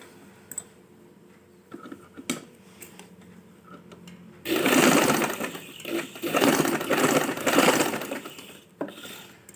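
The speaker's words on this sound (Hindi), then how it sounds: "बिल्कुल पेपर बुकरम के साथ साथ सिलाई लगाएंगे" Sewing machine stitching fabric along paper buckram for a neckline, starting with faint ticks and clicks, then breaking into a louder, uneven whirring run of stitching for the last half of the clip.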